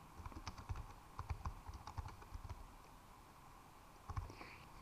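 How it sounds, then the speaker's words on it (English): Typing on a computer keyboard while entering text in SolidWorks: quick bursts of close, crisp key clicks in uneven clusters, a short pause, then a final few taps, no talking. "So if I type in some text here"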